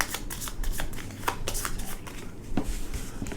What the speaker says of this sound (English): Now I got to shuffle.